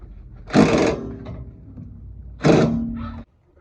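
Impact wrench on a sway bar link of a 2016-2022 Honda Pilot, two close, loud bursts of rattling hammering, each lasting under a second, with a quiet gap between them.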